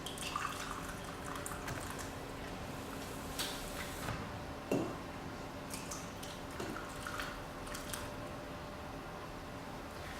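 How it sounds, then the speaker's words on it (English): French onion soup is poured carefully into ramekin dishes on a baking tray, giving quiet liquid drips and splashes against a steady background hiss, with no talk. "We're going to pour some of this soup very carefully into the ramekin dishes."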